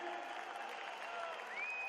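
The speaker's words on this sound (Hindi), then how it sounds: "तालियां बजती रहें।" Audience applause fills a hall at a Modicare success party in Jaipur, a steady dense clapping that holds for the whole stretch, with a thin whistle-like tone rising near the end.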